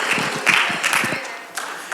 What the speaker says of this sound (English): Oh, come on, give him more energy than that. Those are passive energy applause.